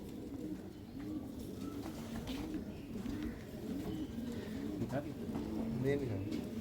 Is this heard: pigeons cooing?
yes